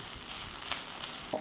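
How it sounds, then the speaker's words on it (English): Boiled minced meat and chopped potatoes stir-fried in a pan, giving a faint, continuous sizzle with a few soft stirring scrapes. "Stir fry this nicely."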